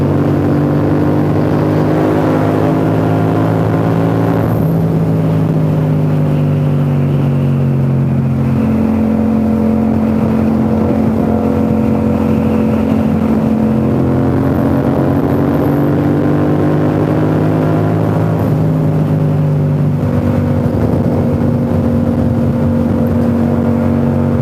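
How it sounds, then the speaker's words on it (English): Parallel twin motorcycle engine fitted with an Akrapovic exhaust, revving and droning steadily at close range for the whole stretch, pitch rising and falling through several throttle swells, no voices over it. "Just enjoy the sound of that parallel twin with the Acropovic."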